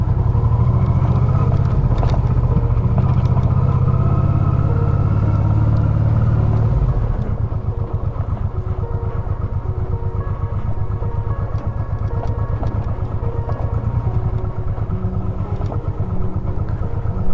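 A motorcycle rides over a rough cobblestone road, its loud, close engine drone paired with constant rattling and juddering from the bumpy stones, steady throughout with no speech.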